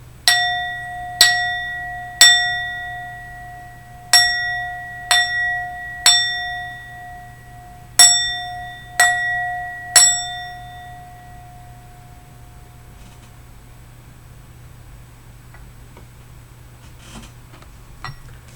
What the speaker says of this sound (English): let me go ahead and start my bell, ring it, and clear this energy